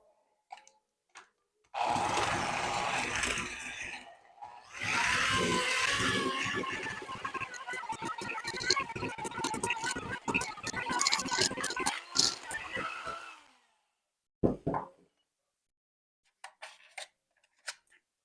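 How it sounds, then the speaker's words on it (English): Electric mixer creaming a cup and a half of sugar with half a cup of butter for cookies, running in two bursts of steady whirring and rattling, close and fairly loud, then stopping with a few clicks and knocks. "I'm just going to cream those together"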